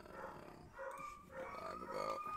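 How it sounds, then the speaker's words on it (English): A dog passing by outdoors gives a few faint, distant barks and growly yips, quiet and brief, heard from indoors. "It's got to be a dog walking by."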